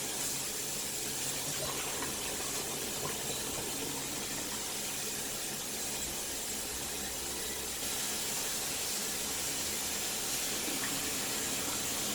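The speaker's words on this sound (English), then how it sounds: "Put all my cabbage back in and rinse it again." Water runs steadily as cabbage is rinsed for kimchi, a constant rushing wash with slight changes in tone as it splashes, close and uninterrupted.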